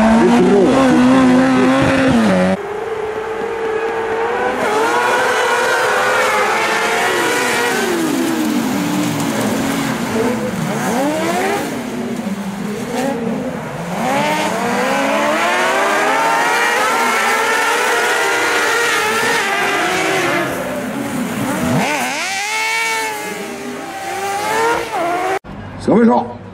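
Rallycross cars race on ice at Gol, Norway, with engines revving and roaring continuously, rising and falling as they accelerate and slide. A commentator talks over the racing.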